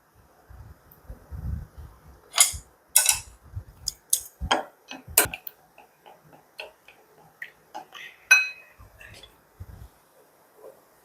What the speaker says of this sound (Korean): 달걀 풀어줍니다.